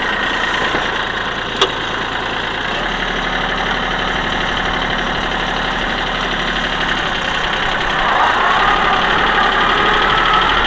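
A small backhoe's diesel engine idles steadily nearby, a continuous low rumble that grows slightly louder near the end, with no voices.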